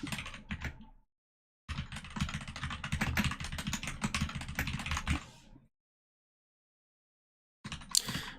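Rapid clattering keystrokes on a computer keyboard, a programmer typing a commit message in two bursts separated by pauses, close and fairly loud, with no talking.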